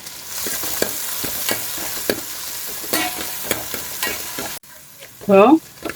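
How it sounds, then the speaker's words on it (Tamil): Onion and green chilli are sautéed in a pan for crab curry, a close, bright sizzle broken by regular scraping stirs, then a brief quieter gap and a short tonal squeak near the end; no talking. "வெங்காயம் போடணும் பச்சை மிளகாயும் போட்டுடணும் போட்டு வதக்கணும்"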